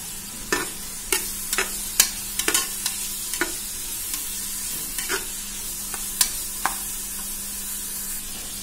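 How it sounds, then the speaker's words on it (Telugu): Onion pieces with a sprinkle of salt fry in a pan for goat head curry, a steady low sizzle with sharp spoon clinks and scrapes against the pan at irregular moments, close by and with no voices. "సాల్ట్ వేస్తే ఉల్లిపాయ ముక్కలు తొందరగా ఫ్రై అయిపోతాయి."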